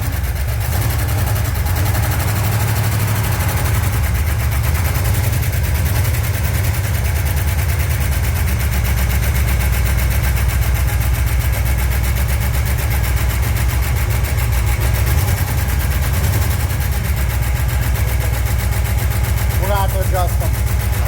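A stock Pontiac 350 V8 car engine runs steadily and loudly throughout, a continuous low rumble with a slight chatter from lifters needing adjustment, and people talk over it.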